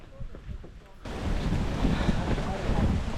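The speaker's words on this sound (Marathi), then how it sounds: "वारं काय जबरदस्त सुटले" Strong wind on a hillside trek near Torna fort buffets the microphone as a loud, roaring rush that kicks in about a second in and stays heavy, after a quieter stretch with faint murmuring.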